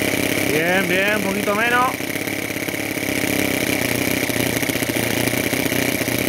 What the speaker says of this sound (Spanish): Ahí está el ralenti. A ver el mínimo.